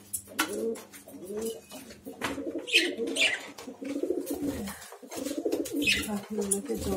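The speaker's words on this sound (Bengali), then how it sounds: "পাখিগুলোকে জল দিয়ে দিই," Pigeons coo repeatedly at close range while water is set out for them, with soft rhythmic cooing phrases and a few sharper chirps over faint background rustle.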